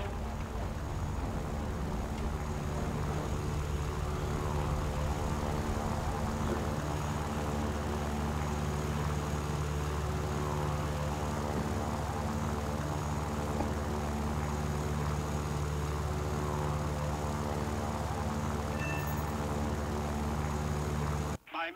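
A propeller warplane engine in the War Thunder combat flight game drones steadily during takeoff, with a constant loud hum and layered harmonics holding for about twenty seconds before it cuts off abruptly.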